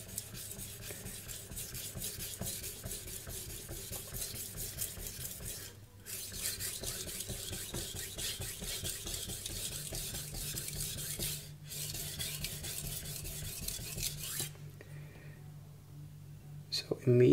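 A carbon steel knife, blue number 2 steel, is sharpened on a 500 grit Morihei whetstone, giving a steady close scraping rasp in long continuous strokes with brief pauses, under quiet talk.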